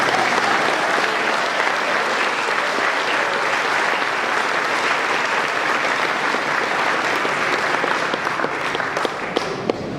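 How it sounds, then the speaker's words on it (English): At a Cadillac and LaSalle club awards banquet, the crowd claps for a winner, a sustained, dense round of applause at close range that thins slightly toward the end, with scattered individual claps as it tapers. "Could we please have a round of applause for people?"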